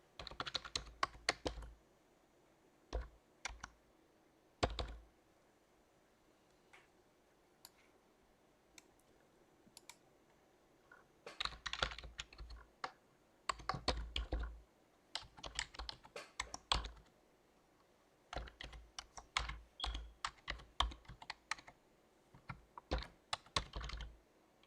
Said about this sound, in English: I'm going to go type in the IP address of the server.